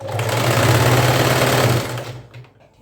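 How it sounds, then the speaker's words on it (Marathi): An electric sewing machine running a straight stitch along a saree while attaching a fall, a steady close whirring hum for about two seconds that then stops, leaving near silence. "सरळ शिलाई चालवेल ठीक आहे सरळ शिलाई एकदम व्यवस्थित"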